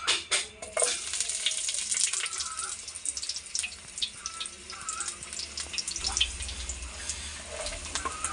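Eggs are sautéed in a pan for breakfast, giving a steady, crackling sizzle with scattered pops throughout, moderately close and alone.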